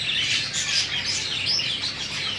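Java sparrows, a breeding flock with eggs and chicks, keep up a dense, continuous chatter of high chirps and tweets at close range, with no voices.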